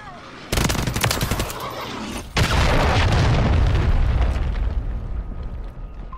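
Video game combat with a cruise missile strike and gunfire: a loud burst of heavy booms and rapid shots, a brief dip, then a sustained rumbling wave of explosions and fire that slowly fades.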